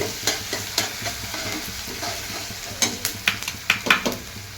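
Onions sauté in a pan for chicken biryani, a steady close sizzle broken by repeated quick scrapes and taps of a spoon against the pan, growing busier toward the end.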